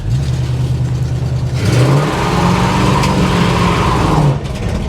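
A 1973 Plymouth Scamp with low voltage revs up, its engine note climbing from a steady idle into a loud, sustained rev close by before easing back near the end, with no talking.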